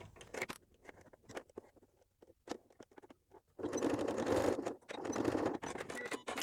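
A sewing machine stitching a strong bar tack to secure a popper, starting with light sparse clicks and handling noise, then breaking into two sustained, loud bursts of rapid mechanical stitching close by.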